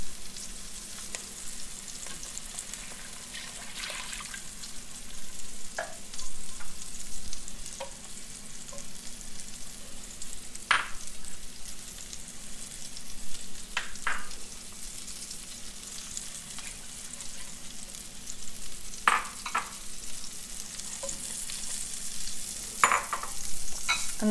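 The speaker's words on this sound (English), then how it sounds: "Now that my onions are sauteed, I'm pretty much just gonna dump everything except the fish in and bring it to a boil." Sautéed onions and other ingredients sizzle steadily in a pot while being stirred, with a constant frying hiss and occasional faint utensil clicks.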